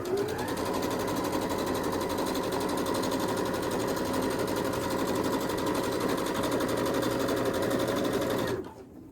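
A long arm sewing machine quilting a quilt runs as a steady, close, continuous mechanical whir for about eight seconds, then cuts off near the end.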